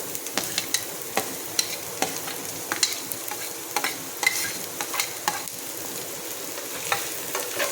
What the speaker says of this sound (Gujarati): તો હવે આપણે એમાં ડુંગળી નાખીશું